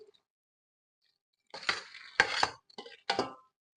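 Pimento is stirred into macaroni salad in a bowl, giving a few short scraping, clinking bursts of a spoon against the dish after a moment of quiet.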